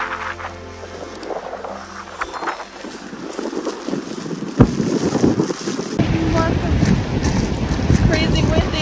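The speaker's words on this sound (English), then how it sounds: "It's crazy windy." Strong gusts on the Isle of Skye roar and buffet the microphone in a steady, loud broadband rush that builds after the first few seconds, with a brief sharp knock midway.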